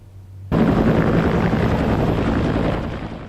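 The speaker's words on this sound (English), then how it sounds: "a new chopper made that rescue possible" A new rescue helicopter roars in abruptly and stays loud and close with a dense, steady rotor and engine wash that eases slightly toward the end.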